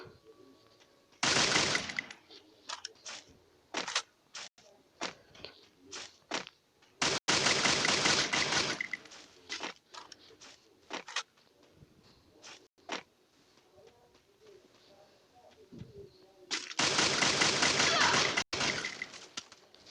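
Video game gunfire, with bursts of automatic fire and rapid single shots breaking out in separate clusters over about twenty seconds. The shots are sharp, fairly close and moderately loud, with quieter gaps between bursts.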